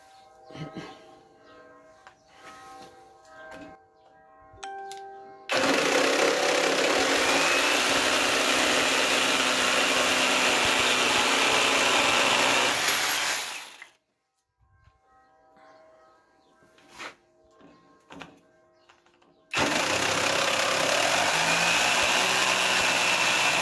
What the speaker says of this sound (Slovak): aj s tým dlhým plátkom tá píla píli naozaj perfektne